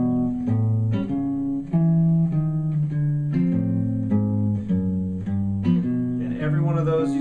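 Guitar plays a walking bass line, steady plucked low notes in even quarter-note rhythm, each target root approached chromatically from above and below, clear and alone with no talk.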